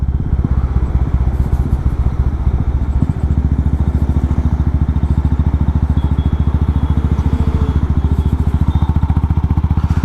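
Royal Enfield Meteor 350 with its catalytic converter removed, the exhaust giving a loud, steady thumping beat while riding in fifth gear, close and continuous throughout.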